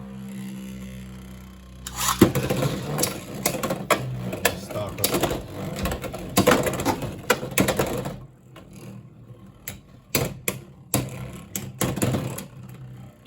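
Beyblade X spinning tops clatter and grind against each other in an official Takara Tomy stadium, with rapid rattling bursts and metallic scraping, close by.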